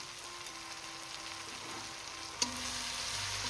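Poppy seed paste ground with four green chillies, sautéing with spring onions in a pan: a steady, soft sizzle and frying hiss runs throughout, with one brief clink of a utensil partway through.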